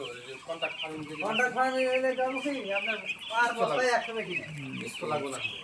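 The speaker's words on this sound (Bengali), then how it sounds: "এটা হচ্ছে ব্রয়লার মুরগি পোলট্রি" Eight-day-old broiler chicks in a poultry shed, their continuous, busy peeping and chirping mingling with a voice talking over them.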